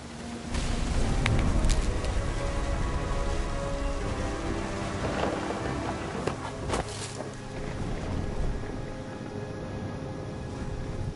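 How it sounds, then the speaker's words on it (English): Thunderstorm in the video game Remains of Edith Finch, with steady heavy rain hissing on surfaces and a low rumbling wash of wind and thunder, loud and continuous throughout, with no talking. "The thunder sounded much too close and full of angry power."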